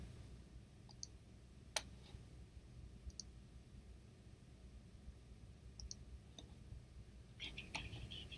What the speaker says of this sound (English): I can click.